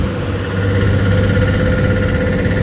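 Engine of the Sanchita 1 passenger launch traveling at speed on a river, a steady loud low drone with constant mechanical hum and no breaks.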